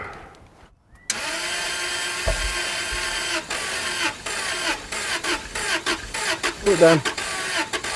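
A Daimler car's engine is cranked by its starter: after a second of near quiet a steady mechanical whirring churns on for several seconds with uneven surges and thumps, while a voice speaks briefly nearby.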